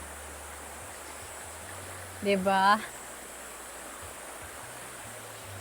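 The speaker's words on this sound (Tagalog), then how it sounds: "nandito na tayo sa ilog" A river flows with a steady broadband rush of water at an outdoor riverside washing spot. Someone briefly speaks a single word over it.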